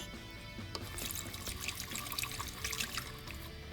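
Lukewarm water pours into a mixing bowl as a faint, steady trickle and splash, close and alone.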